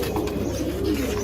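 Pigeons of the Jabra line and other fancy breeds coo steadily together in a crowded loft, a continuous low murmuring chorus close by with no talk.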